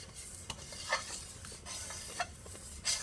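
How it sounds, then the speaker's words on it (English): Quiet stirring of boiling strawberry jam sweetened with honey in a pot, with soft scraping and bubbling and a few light utensil clinks against the pan. "Okay, so now I'm stirring. And it continues to boil."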